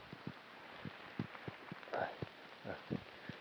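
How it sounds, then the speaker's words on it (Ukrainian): Rain falls in a forest during a mushroom hunt, a soft steady patter with scattered close drips and taps, faint and without talk. "У нас дощик посилився вже, так що будемо сьогодні мокрі."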